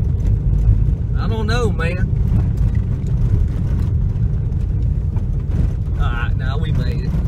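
Toyota Yaris driving up a wilderness hill, a steady close engine and road rumble throughout, with people talking over it in two short bursts.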